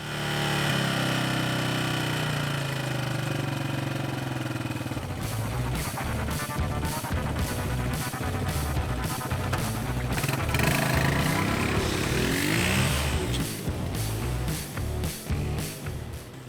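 A Suzuki LT230 Quadrunner ATV engine, just reassembled with its carburetor idle lowered, runs close and loud, first a smooth steady drone, then a rhythmic chugging idle with revving swells.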